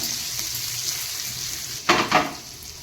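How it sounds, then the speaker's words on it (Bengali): Garlic is tipped into hot oil for tempering a small-fish curry. A steady background hiss swells into two short, close sizzling bursts near the end, and no voices are heard. "আর এই রসুনটা আমি এই ফোড়ন দিয়ে দিলাম"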